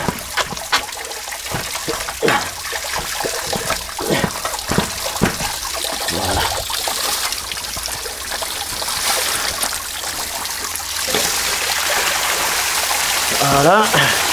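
Water gushes loudly and continuously from cut pipes during a large leak in a crawl space. The steady rushing is broken by scattered knocks and splashes near the source.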